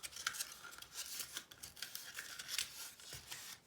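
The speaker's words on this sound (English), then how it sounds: "you can cut little slits around it" Scissors snip little slits around paper for a sculpture base, a close series of short, crisp cuts with a dry papery rasp, repeated steadily with no talking.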